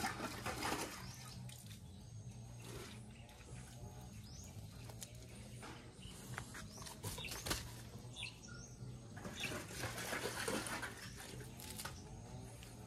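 Rainwater runs steadily down from a house gutter, a faint continuous patter and trickle with brief splashy bursts, while birds chirp in the background.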